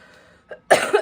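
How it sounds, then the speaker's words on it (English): A woman coughs several times in quick succession, with a short faint cough first and then a loud, rough burst of coughs close to the mic; no talk. "Excuse all the coughing, I've been coughing a lot lately."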